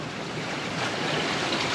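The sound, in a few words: big waves and wind at sea on a sailboat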